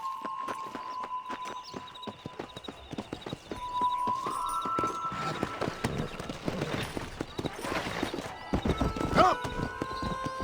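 A horse in Red Dead Redemption breaks into a rapid clip-clop gallop, hoofbeats quickening and growing louder, with whinnies near the end and voices talking over parts of the ride.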